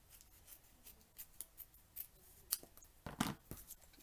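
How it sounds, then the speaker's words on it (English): Fabric scissors snipping through fabric, a series of quiet, irregular crisp cuts that cluster into a quicker, louder run near the end. "trim that with my fabric scissors"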